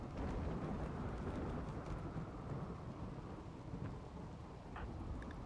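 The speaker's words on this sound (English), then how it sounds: "it's a rainy thunderstorm" Steady, dense thunderstorm ambience in the video game RimWorld: heavy rain hiss with low rolling thunder rumbling continuously throughout, no voices.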